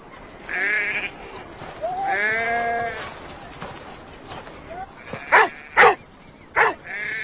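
Sheep bleating in a guarded flock at night, a few drawn-out bleats followed by sharp, loud barks from the guard dogs nearby, with crickets faint in the background.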